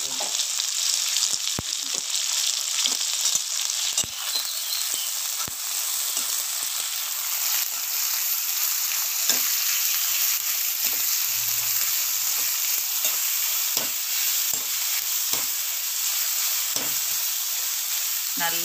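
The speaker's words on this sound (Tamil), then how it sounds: "வெங்காயத்தை நல்லா பொன்னிறமா வதக்கிக்கலாம்." Onions sauté to golden in a pan for a Chettinad field bean masala, giving a steady close sizzle and hiss with occasional scraping clicks from stirring, and no talking.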